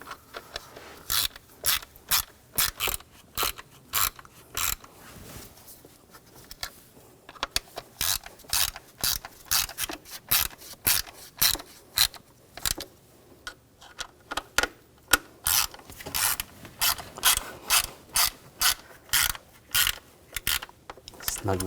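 A hand ratchet tightens bolts on the 3.0L engine of a 2000-2006 BMW X5 during crankcase breather hose replacement, giving repeated crisp bursts of rapid clicking separated by short pauses, close and clear.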